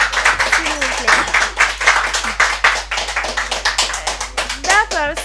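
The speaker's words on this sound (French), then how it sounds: "Applaudissez s'il vous plaît" Scattered, distinct hand claps at a Malian rap session, sounding like a small group rather than a big crowd, mixed with overlapping talk and a voice rising in pitch near the end.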